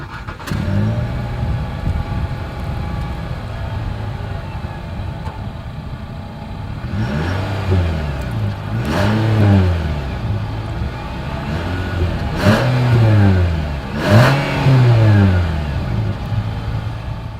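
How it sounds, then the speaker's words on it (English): A 2020 Nissan Sentra idles with a rumbling exhaust, then revs sharply four times in quick bursts, each roar rising and falling, loud and close. "here is that exhaust clip"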